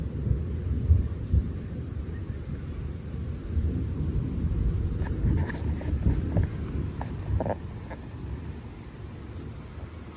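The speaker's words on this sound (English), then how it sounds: "There's gonna be big thunder now." Thunder rumbling during a storm in Brisbane, a low, drawn-out roll rising and fading over several seconds, with rain hiss and a steady high insect drone in the background; no talking.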